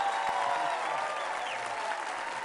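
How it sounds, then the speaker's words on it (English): Studio audience applause at a taped comedy debate show, a steady wash of clapping across the whole stretch with no talk over it. "It is now time for our studio audience to make their decision by applause."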